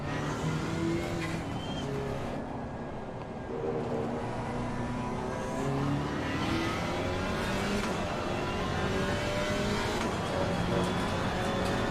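In a racing video game, a GT4 race car at Silverstone revs continuously with shifting engine pitch through gear changes and corners, a steady loud drone lasting throughout.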